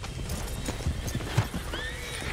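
Horses in a barn in Red Dead Redemption 2 shuffle their hooves with a few clip-clops and thuds, and a short whinny rises near the end, close and moderately loud.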